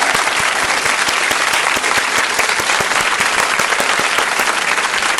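A studio audience claps loudly to welcome a surprise guest appearing from behind a curtain: dense, continuous applause, close and steady from start to finish.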